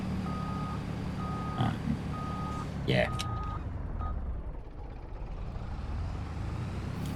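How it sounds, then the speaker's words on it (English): A truck engine idles with intermittent high reversing beeps, a short hiss and clatter midway, and a brief spoken word. "It's kind of generic truck sounding, I guess."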